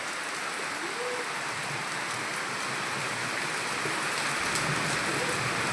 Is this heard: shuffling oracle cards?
no